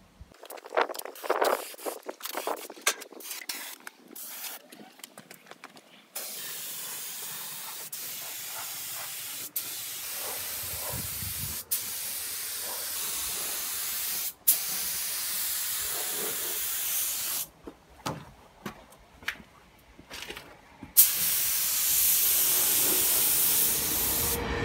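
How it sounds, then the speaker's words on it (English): An ANI GF3 spray gun lays down a coat of paint in a series of long, steady hissing bursts separated by short pauses and a few clicks of the trigger, with no voices. "Let's spray the next coat."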